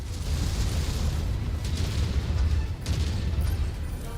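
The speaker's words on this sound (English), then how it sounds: "There's explosions everywhere." Continuous rumbling explosions and booms fill a MechWarrior 5 mech battle, a dense, steady roar of blasts with occasional sharper bursts, loud and unbroken, without voices.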